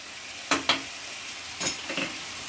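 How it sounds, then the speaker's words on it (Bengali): Spices with salt, turmeric and Kashmiri red chilli powder being stirred and fried in a pan for a Bengali potol chingri curry, giving two sharp scraping stirs followed by softer sizzling scrapes, fairly quiet, with no talking. "এবার ভালো করে কষিয়ে নেব।"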